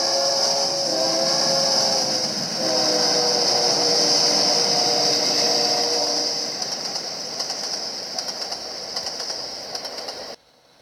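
A long autorack freight train with intermodal cars at the rear rolls past, a loud sustained rumble and metallic hiss that gradually eases toward the end before cutting off.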